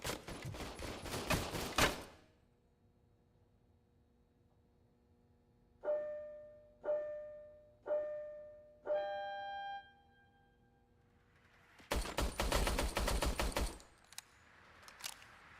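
Shots from a RoboCop service weapon in the RoboCop video game: two bursts of rapid automatic gunfire open and close the sequence, with four evenly spaced single ringing shots between them, each followed by a metallic tone.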